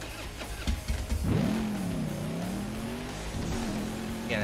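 A NASCAR race car on a racing oval in Burnout Paradise revs hard, its engine note climbing then holding a steady, loud mid-pitched drone that dips and rises slightly as it pulls along.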